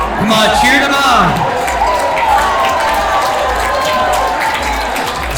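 A large crowd at an indoor mental health event cheers and claps in a loud, continuous hubbub, with scattered shouts and voices mixed through the noise.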